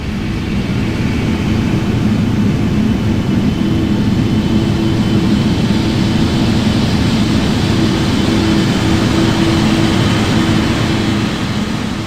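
Boeing 777-200 jet engine in a flight simulator, heard from behind: a loud, steady, continuous roar with a low droning hum, unbroken for twelve seconds and with no voices.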